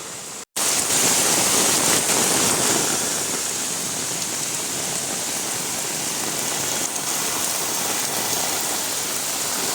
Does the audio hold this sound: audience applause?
no